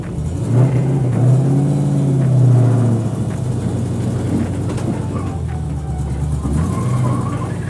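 A car with a locked differential circles and skips one tire, a loud, close engine drone with a rising and falling rumble, and a voice speaks over it.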